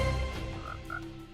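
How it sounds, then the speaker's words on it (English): A frog croaks in Hypixel Skyblock, Minecraft, a couple of short, close croaks over a low background hum. "Frogs?"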